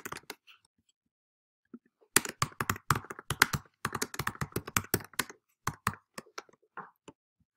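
Fingers type a message on a computer keyboard in quick bursts of close, crisp key clicks, some pauses between runs, with no talking over them.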